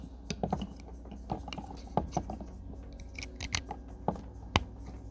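A series of small plastic clicks and snaps, irregularly spaced, as solar panel DC connectors are fitted and locked together; close up, with faint handling noise between.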